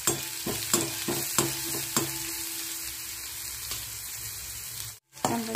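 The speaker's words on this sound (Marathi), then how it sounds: "नंतर यामध्ये बारीक चिरलेला पातीचा कांदा टाकून द्यायचा।" Chopped spring onion frying in oil with garlic, ginger and green chilli paste gives a loud continuous sizzle with sharp utensil clicks and scrapes, a brief near-silent dropout near the end, no talk.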